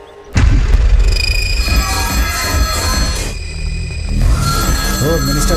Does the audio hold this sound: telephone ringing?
yes